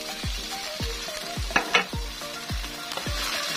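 Fish sauce sizzles in a hot pan while munggo and fried fish are cooked, with repeated low thumps of stirring and a constant frying hiss.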